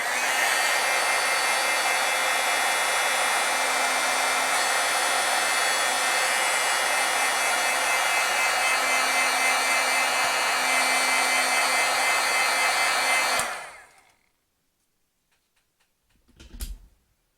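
A heat tool blows steadily on stamped aqua foil artwork, a loud continuous whirring roar with a faint hum running for about thirteen seconds before cutting off, followed by a brief soft knock.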